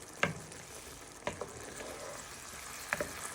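Noodles and honey garlic prawns finish cooking in a pan with a quiet, low sizzle. A few distinct clinks of a utensil on the pan break through it.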